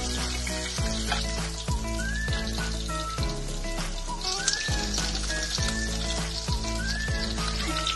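Steaks fry in butter and olive oil in a pan, a close, crackling sizzle broken by repeated spoon-basting splashes and clinks, with no voices.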